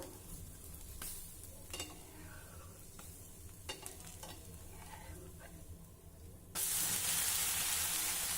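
A fasting dosa (vrat dhirde) fries on a pan with a soft sizzle, scraping and turning sounds, then a sudden louder steady hiss as fresh batter or oil hits the hot surface.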